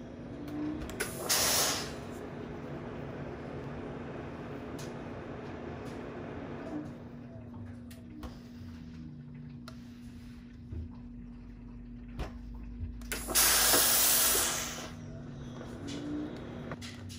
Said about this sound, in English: if you want to give it a little bit of steam